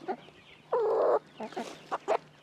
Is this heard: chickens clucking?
yes